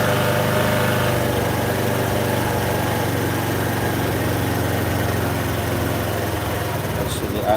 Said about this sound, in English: we're gonna have to turn the idle up on this because it's too low